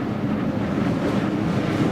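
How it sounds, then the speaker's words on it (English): A strong wind sweeps across an open wheat pasture with no trees around, buffeting the microphone in a steady, loud, low roar with no break. "On a crazy windy day like today."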